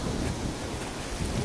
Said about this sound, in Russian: Продолжается шторм.